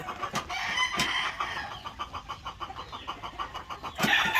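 Chickens cluck and chatter continuously nearby in a steady rhythmic flurry in a breeding pen, with a couple of louder squawks breaking through.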